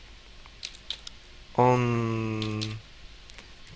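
Light taps on a computer keyboard while someone types a captcha during an IRC nickname registration. A few faint clicks sit around one short spoken word.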